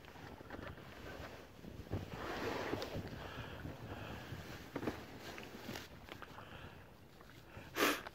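A Tomahawk 25 sailboat runs downwind in light wind with the engine off, making a soft steady wash of water and breeze, with occasional gusts of wind buffeting the microphone.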